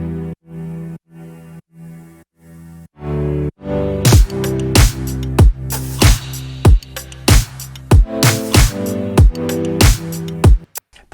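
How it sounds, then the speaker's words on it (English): Piano Wave synth chords for a synthwave song, first as short detached stabs, then pumping under a Kickstart sidechain effect while a steady kick drum thumps on each beat, loud and rhythmic. "All right, so Piano Wave with kickstart sounds like this."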